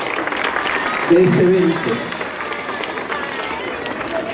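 An audience applauds at the inauguration of an international classical music festival in Santander de Quilichao, a sustained wash of many hands clapping in a large space while a speaker's voice carries over it.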